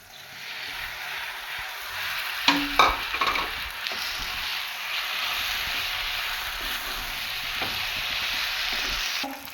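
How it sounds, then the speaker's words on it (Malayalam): Cooked macaroni drops into a pan of frying red pasta sauce, then a continuous close sizzle runs under stirring scrapes and clacks of a spoon, with sharper clatter early on and no voices. "നമ്മൾ വേവിച്ച് വെച്ചിട്ടുണ്ടായിരുന്ന മക്രോണി ഇടാം മക്രോണി ഇടാം"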